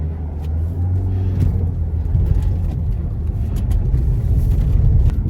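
A Renault Laguna Coupe drives along with a steady low engine and road rumble from inside the cabin, with faint clicks over the drone.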